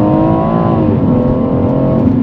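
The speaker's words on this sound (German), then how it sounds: "Dann mal im Sportmodus beschleunigen." A BMW M140i with an HJS 300-cell downpipe and Akrapovic slip-on exhaust accelerating in sport mode, a loud, close engine note rising steadily in pitch, dipping briefly at a shift, then climbing again.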